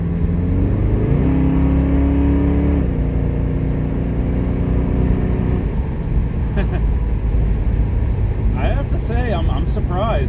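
A 1979 Pontiac Trans Am with a V8, left in drive, accelerates with a loud, steady engine drone and rising revs that fill the whole stretch, with talk over it.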